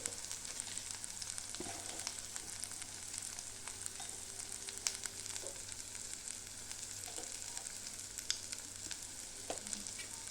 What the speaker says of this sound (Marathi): आता हे चांगलं तेलामध्ये परतून घ्यायचं.